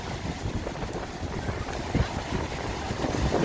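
Strong wind at Cocoa Beach, Florida, buffeting the microphone in a steady low roar with gusts, mixed with distant surf, loud and continuous.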